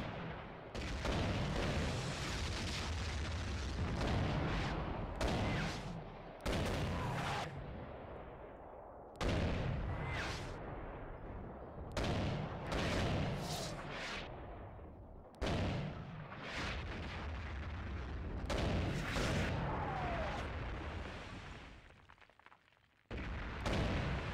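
Rattling gunfire and heavy booms from infantry in the Graviteam war game, sustained and dense across the stretch with brief gaps, loud and close throughout.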